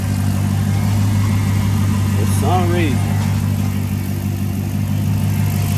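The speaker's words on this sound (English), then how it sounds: "we started the engine up" A car engine idles with a steady, loud low hum and rumble; a short burst of someone talking rises briefly over it midway.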